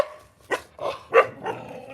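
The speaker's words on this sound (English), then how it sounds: "There's a little dog." A small dog in an old town in China barks several times in short, separate bursts, fairly close and moderately loud, with brief pauses between barks and no talking.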